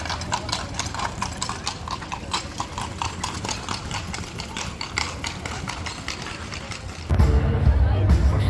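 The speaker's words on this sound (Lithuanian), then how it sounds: "O, arkliukai." Horses' hooves clip-clop on a street in Austria in the evening, a steady, fairly close run of quick hoofbeats, before a louder, low rumbling noise takes over near the end.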